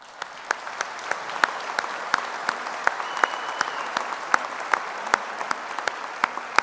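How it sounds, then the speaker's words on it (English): Applause from a graduation audience, with steady light clapping and distinct individual claps popping out regularly above it, continuing evenly throughout. "please let's give a round of applause"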